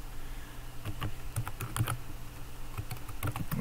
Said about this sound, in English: I'm going to type in LX Terminal.